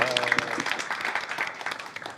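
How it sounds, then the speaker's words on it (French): Studio audience applause on a French broadcast, moderately faint scattered clapping with a few sharper individual claps and a brief voice near the start. "On peut l'applaudir."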